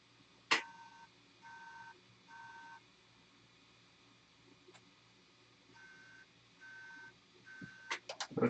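A liquid-damaged MacBook Pro gives repeated two-tone electronic beeps in short bursts, three in a row, a pause with a click, then three more, followed by clicks and handling noise.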